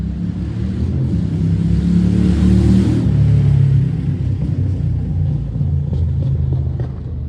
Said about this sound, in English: I love the sound of motorcycles